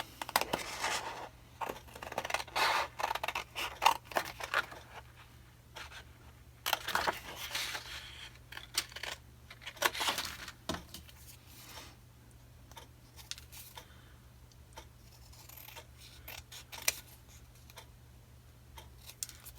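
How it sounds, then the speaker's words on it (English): Scissors cutting paper pieces for a paper-craft folio kit, with bursts of snipping and rustling paper close by, separated by quieter pauses over a low steady hum. "then I'll just cut it out again"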